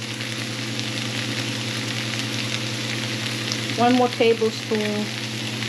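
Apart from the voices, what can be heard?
onions and oil sizzling in a frying pan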